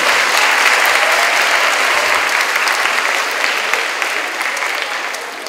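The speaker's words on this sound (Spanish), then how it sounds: "les pido un voto de aplauso muy fuerte" Strong audience applause for a panel of speakers at a presentation against street harassment, loud and sustained from a large crowd, gradually tapering off toward the end.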